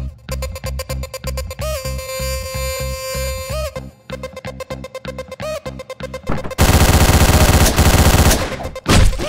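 Gunfire in the top-down shooter Hotline Miami: a dense burst of rapid automatic shots rings out loud for a few seconds over pulsing electronic game music, after stretches of music with only scattered shot-like hits.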